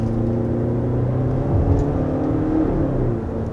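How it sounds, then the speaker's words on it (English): A 2022 Volvo XC60 mild hybrid accelerating from inside the cabin, a steady engine drone with a faint turbocharger whir that rises slightly in the middle, continuous and fairly loud with no talking. "And you hear the little turbocharger."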